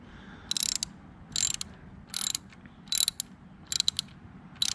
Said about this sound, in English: So I'm closing the new bolt after I cleaned it.